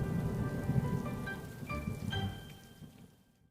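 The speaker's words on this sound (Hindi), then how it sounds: "फिर रात से बारिश शुरू हो जाती है" Steady rain falls at night in a continuous soft hiss that thins out and fades away toward the end, with no voices.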